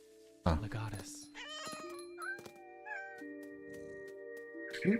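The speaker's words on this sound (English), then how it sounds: "Cute cat noises" A cat in the video game What Remains of Edith Finch gives several short, clear meows and a drawn-out caterwaul. The cries sit up close and are broken by a sharp knock, with a player's voice heard alongside.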